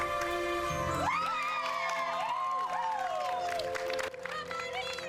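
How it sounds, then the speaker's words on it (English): A crowd cheers and shouts as a rescued pit bull named Lealoha walks with her new owner into Aloha Affordable Veterinarian Service in Aiea; excited voices rise and fall steadily over music. "cheers erupted from the crowd as Lealoha the dog and her new owner walked through the doors of Aloha Affordable Veterinarian Service in Aiea"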